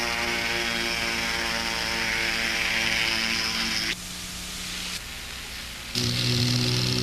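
Ultralight powered aircraft engine during a 1990 takeoff, a loud steady droning buzz that drops abruptly to a quieter rush as the throttle slides back to idle, then surges up again near the end.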